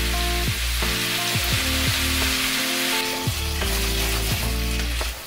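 Chickpeas and ground spices fry in a pan over medium heat, giving a steady, loud sizzle that runs unbroken throughout, with no voices over it.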